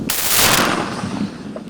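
A loud explosive blast of an RPG anti-tank grenade launcher firing during military training in Zaporizhzhia, a sharp whooshing burst that trails off into a rumbling echo.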